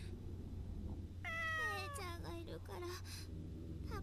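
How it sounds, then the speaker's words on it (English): A cat meows in the Corpse Party: Book of Shadows video game, a few rising and falling wails in quick succession over a low steady hum, fairly quiet overall. "I guess Mei is the cat"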